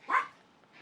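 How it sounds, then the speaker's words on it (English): A dog lets out one sharp, close bark near the start, and the rest is a quiet room with faint background noise. "Hey, big bad dog."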